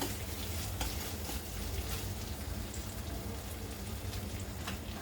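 Masala gravy sautéing in plenty of oil gives a steady, close sizzle with a rain-like crackle and occasional stirring scrapes, continuous and without speech.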